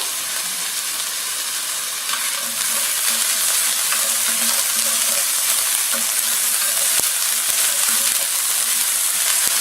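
Chili peppers sizzle and crackle in a hot wok for Kung Pao chicken, a continuous bright frying hiss that swells slightly partway through, with a few faint clinks of stirring.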